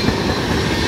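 The Down Kolkata–Radhikapur Express train rolls through Hooghly Ghat railway station, a loud, close rumble of rail wagons with rattling wheels and faint metallic squeal.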